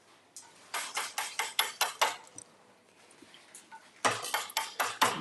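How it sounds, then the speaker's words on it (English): Candy being chopped in a Dutch candy shop: a quick run of about a dozen sharp, loud knife strikes on a hard surface, a short pause, then another burst of chops. "the chopping of the candies"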